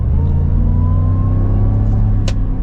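A supercharged Roush F-150 truck accelerating at partial throttle gives a loud, deep, steady engine rumble with a faint rising whine, heard from close inside the cab.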